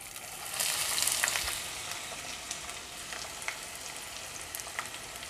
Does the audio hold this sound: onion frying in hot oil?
yes